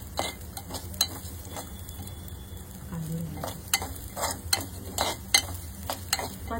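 Rice grains roasting in ghee in a pan, a soft sizzle beneath repeated scraping stirs of a spatula at an irregular rhythm, fairly quiet and close.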